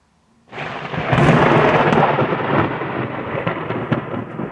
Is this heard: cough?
no